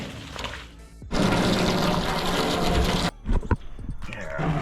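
Water is poured onto a small crushed gold ore sample in a steady, fairly loud splashing rush of about two seconds, followed by gurgles, clinks and further trickling.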